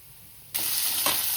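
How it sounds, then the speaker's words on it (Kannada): Onions and chillies hitting hot oil in a pan, a sudden loud sizzle bursting in partway through and holding steady, with a brief surge of crackle near the end. "ಈರುಳ್ಳಿ ಹುರ್ಕೊಂಡು ಎಣ್ಣೆ ಹಾಕಿ ಉರಿಬೇಕು."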